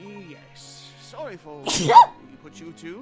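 A video game character in Layton vs Wright sneezes once, sharp and close, in the middle of a short clip. Spoken dialogue with game music comes before and after it.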